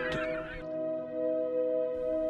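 Seagulls on a sunny coast give one harsh, harmonic call near the start. A steady tonal drone continues underneath for the rest of the clip.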